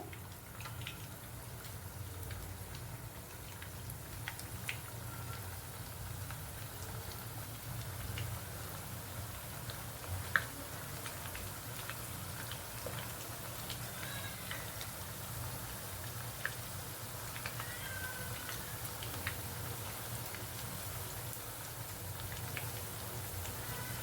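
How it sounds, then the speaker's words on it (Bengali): Chicken pakora fries in hot oil, giving a soft, steady crackling sizzle like light rain, with occasional sharper pops throughout. "তেলটা গরম হয়ে গেছে তো আমি একটা একটা করে এবার তেলের মধ্যে দিয়ে দেবো"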